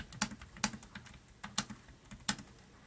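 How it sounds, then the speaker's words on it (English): Typing on a Logitech K600 wireless keyboard at a Windows PC: sharp, close key clicks in uneven bursts, with a few louder strikes spaced through the stretch and no talking. "Trying notepad typing on this Windows PC."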